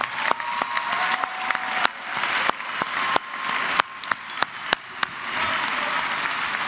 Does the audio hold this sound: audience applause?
yes